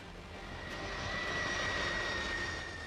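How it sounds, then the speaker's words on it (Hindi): Air Force One, the US presidential airliner, roars with a continuous jet-engine drone and a high whine, swelling louder in the middle before easing off slightly, heard alone without voices. "अमेरिका के राष्ट्रपति इसी एयरफोर्स 1 प्लेन से चलते हैं जो दुनिया का सबसे ज्यादा सुरक्षित हवाई जहाज माना जाता है"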